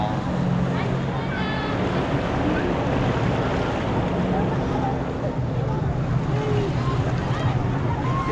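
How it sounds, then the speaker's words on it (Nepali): A steamer boat moving on the Narayani river in Chitwan, Nepal, a steady engine drone with water rushing and wind noise, continuous and close, while voices talk now and then over it. "हामी स्टिमर चल्दैछौँ"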